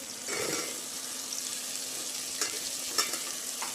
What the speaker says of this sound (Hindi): अब हम आलू जो है ना उसको भी प्याज के साथ ही फ्राई करेंगे